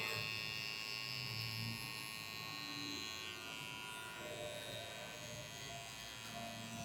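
Electric hair clipper cutting a low fade in a barbershop, a steady close buzzing hum with faint mains-like tone running throughout, with no talk over it.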